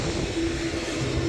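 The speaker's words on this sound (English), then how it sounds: "as the Freebird gets ready to take off, and in fact it's on its takeoff roll right now" Freebird Airlines airliner on its takeoff roll at Manchester Airport, a brief steady jet engine rumble and drone heard from a distance.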